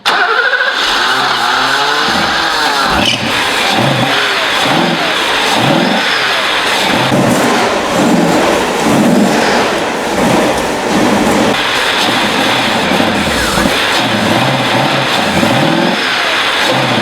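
A loud car engine kept running on carb cleaner, with dog food in the tailpipe, runs continuously nearby, repeatedly revving up and down in surges, rough and throbbing throughout.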